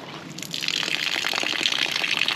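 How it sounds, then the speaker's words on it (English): Water gushes steadily from the nozzle of a 275-gallon IBC tote rain-catch tank, starting abruptly and continuing as a close, even rushing splash with low pressure. "So I released the water to the nozzle."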